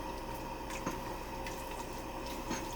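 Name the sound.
stirring cornstarch slurry into bubbling satay sauce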